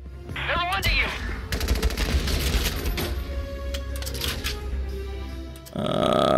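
Gunfire in the tactical war game Valkyria Chronicles 4: a dense burst of rapid shots and blasts fills the clip beneath game music, ending in a louder boom near the close.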